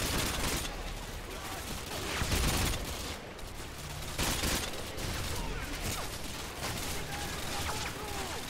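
Gunfire in the video game Call of Duty Modern Warfare 2, dense bursts of rapid shots and fusillades rattling almost continuously at a loud level, with a speaking voice at times mixed into the firefight.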